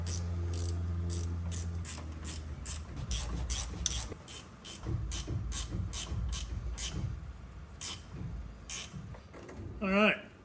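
A ratchet clicks in fast, repeated bursts while bolts are tightened during a 5-speed transmission swap on an OBS Chevy truck, close and rhythmic with short pauses between strokes, and a voice speaks briefly near the end.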